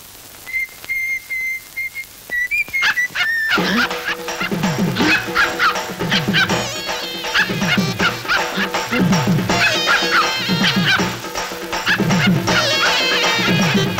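A dog let loose in a Tamil comedy scene, with repeated yips and barks close by over a busy, loud mix of shouts and background music, preceded by a few short whistle-like tones.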